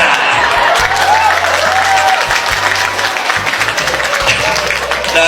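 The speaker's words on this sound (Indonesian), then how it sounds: "begitu tepuk tangan" A crowd at an Islamic sermon gathering claps loudly and continuously, a dense close-up burst of applause with a faint hum running beneath it.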